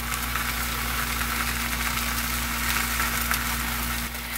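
Egg whites frying in a pan for Korean rice cake soup garnish, a faint continuous sizzle with a low steady hum underneath, no voices.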